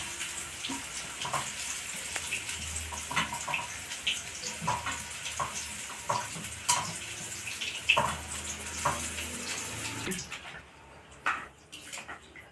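Gobindobhog rice is washed under a running tap, with steady splashing water and grains swished by hand, the flow stopping near the end and leaving a few soft drips and clatters.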